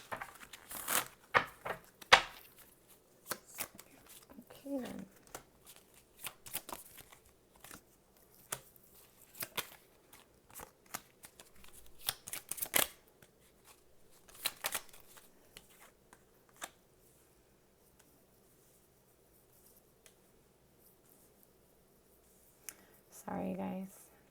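Tarot cards shuffled by hand in repeated riffling bursts, crisp and close, mostly in the first half, followed by quieter handling and a brief spoken remark near the end.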